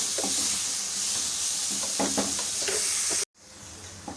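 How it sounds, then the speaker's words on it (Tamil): Salted vegetables sauté in a pan with a continuous hiss and a few stirring scrapes, cut briefly by a sudden break before the sizzle resumes. "காய்கறிகள் எல்லாமே கொஞ்சம் வதங்கட்டும்"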